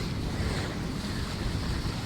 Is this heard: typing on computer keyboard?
no